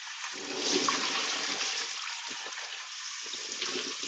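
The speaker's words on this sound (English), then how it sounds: "Rinse the can." Tap water runs steadily into and over an emptied can as it is rinsed, a continuous close splashing gush lasting the whole stretch with small fluctuations and no talking.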